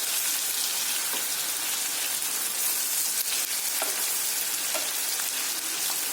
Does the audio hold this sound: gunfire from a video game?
no